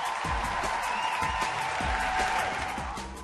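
Sustained applause fills the Satish Dhawan Space Centre at Sriharikota after the Mangalyaan Mars orbiter launch, a dense steady wash of clapping from a large crowd with a faint tone running underneath.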